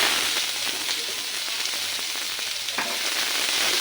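Onions fry with a little salt in a pan for fish curry, giving a soft, even sizzle like light rain, close and steady throughout with no voices.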